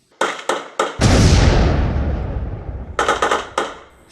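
Sharp gunshots crack in quick succession, then a heavy booming blast rolls out and fades, followed by another rapid string of shots.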